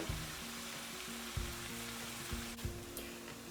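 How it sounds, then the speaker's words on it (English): Ground turkey sizzles and browns in a pan, a soft steady frying hiss broken by a few light scrapes and stirring knocks, faint and without talk. "We won't just stand here and brown the meat"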